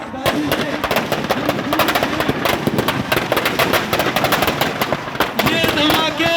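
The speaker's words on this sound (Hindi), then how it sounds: "ये धमाके बुराई के हैं" Fireworks crackle and bang in a dense, rapid barrage as a Ravana effigy burns at a college stadium in Jhunjhunu, loud and continuous, with a voice talking over the blasts.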